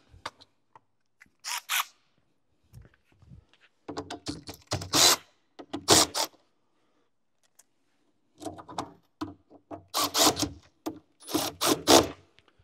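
Spray boom being raised on a Western SS-120 walk-behind sidewalk sprayer: a series of short mechanical clicks and ratcheting rattles in separate bursts, close and fairly quiet, with gaps of silence between them.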